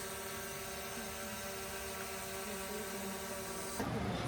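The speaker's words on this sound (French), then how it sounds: "Mérine, elle a fait décoller le drone." A drone lifts off at an outdoor spot in the Philippines. It gives a steady, dense mechanical whir that holds for several seconds, and a brief shift in the noise comes near the end.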